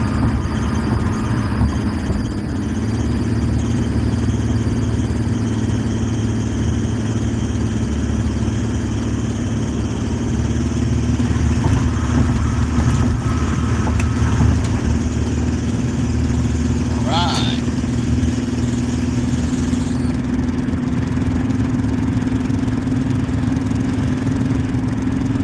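A car driving along a curvy road, with a steady low engine drone and road rumble throughout, a brief squeal near the middle, continuous and fairly loud.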